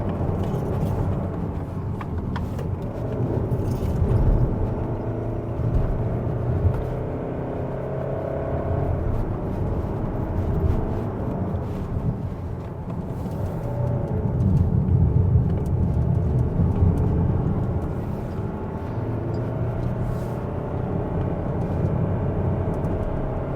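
A 2023 Kia Sorento 2.2 diesel pulls out of a corner on the Genting mountain climb, its engine a steady low rumble and whir under road noise inside the cabin, with no talk.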